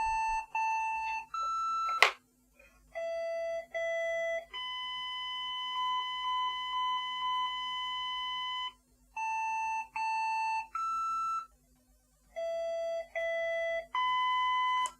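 A repaired ZX computer board's beeper circuit puts out a series of electronic tones, short stepped beeps and longer held pitches switching between notes, with brief silent gaps, clean and close, with no voices.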